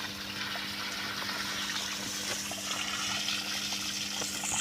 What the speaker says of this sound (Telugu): ఇట్లా పోయాలి నీళ్ళు.